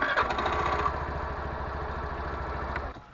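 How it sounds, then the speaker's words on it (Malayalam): A Suzuki Access 125 scooter engine starts and settles into a steady, close idle, with a low rhythmic putter that runs evenly for about three seconds before cutting off. "അടുത്തായിട്ട് നമുക്ക് ആക്സസ് ഒന്ന് സ്റ്റാർട്ട് ചെയ്ത് നോക്കാം."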